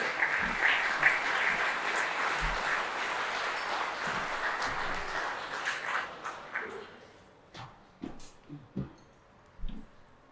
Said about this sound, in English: So please give a round of applause to Mr. Daniel Arnott.